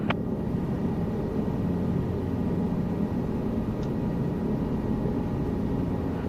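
Helicopter in a flight simulator video game flying straight and level along the Isar River: a steady, loud, continuous low rotor and engine drone with faint brief clicks, no talk.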